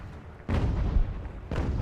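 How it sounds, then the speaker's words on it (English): Cannon artillery booms in the video game Ultimate General: Revolution: two loud, heavy blasts about a second apart, each with a broad rumbling decay, over low battlefield background noise. "But of course, we can just use our cannon"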